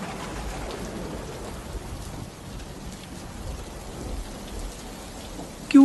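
Steady rain falls in a dense, even hiss of drops on surfaces, moderately loud and unbroken throughout, with no voices.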